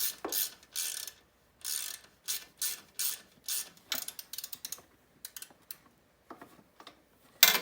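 Ratcheting wrench turning a shock bolt on a 2005 Honda CRF70F dirt bike, fitted with a new shock and BBR stiff spring: close, crisp bursts of rapid ratchet clicks in short strokes separated by brief pauses, with no talking.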